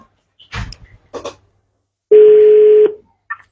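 A call back is placed on a telephone: a few faint clicks and taps, then a single loud, steady tone of about a second, followed by another faint tap.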